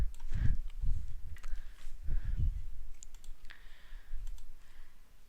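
Computer mouse and keyboard clicks tap out in a quick irregular run, crisp and close, with brief pauses between clusters.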